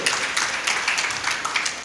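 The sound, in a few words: audience applause welcoming guests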